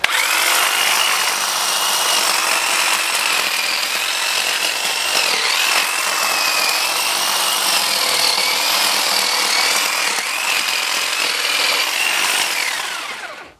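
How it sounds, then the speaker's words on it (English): Steady, loud power-tool cutting noise from trimming a neighbor's bush outdoors, a continuous buzzing whine with shifting pitch that runs almost the whole time before cutting off at the end. "I have to trim my neighbor's bush."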